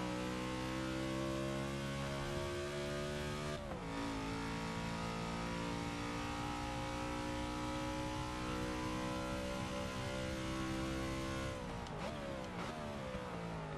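A NASCAR stock car in a Forza racing game at Road America roars loudly and continuously, its engine pitch dropping sharply under braking and climbing again as the throttle reopens, twice in succession.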